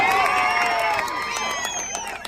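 Crowd cheering and whooping at a Telugu Desam party welcome in a village, with a dense, continuous wash of voices that tapers off slightly toward the end, loud throughout.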